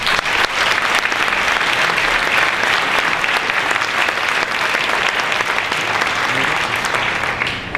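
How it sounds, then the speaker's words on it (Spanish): A crowd applauds steadily and loudly for several seconds to welcome a speaker at a tribute event, a dense, continuous clapping texture without talk. "por favor, recibamos a Jaime con un aplauso"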